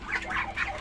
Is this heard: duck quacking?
yes